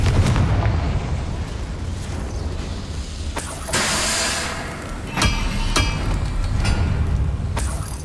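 A Confringo blasting curse detonates in the Hogwarts Legacy video game, a loud booming blast with crackling bursts and several sharp impacts layered over a continuous rumbling battle din.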